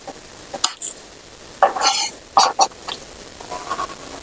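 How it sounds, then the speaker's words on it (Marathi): Roasted potato cutlets (aloo cutlets) lifted from a pan onto a plate: a handful of sharp, close metallic scrapes and clinks of a spatula against the pan, arriving in short separate bursts with quiet gaps between, no talking. "पॅन मध्ये रोस्ट झाले ते आपण प्लेट मध्ये काढून घेऊ"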